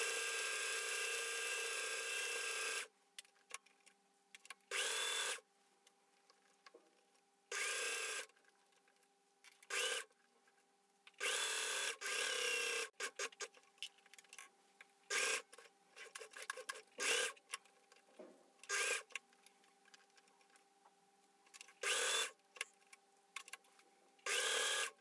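A sewing machine stitches shirring onto a lolita skirt in repeated short runs of whirring, separated by pauses and fabric handling, faint and close with no talking.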